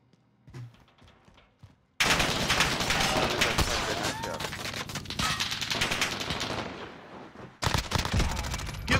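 Rapid bursts of automatic gunfire in a video game crackle loudly and almost continuously, with a brief pause near the end before the shooting resumes.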